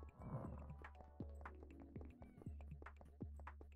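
A cat meows repeatedly in a PS1 horror demo game, several short, clear mews spread across the clip over a steady low background hum, with no talking.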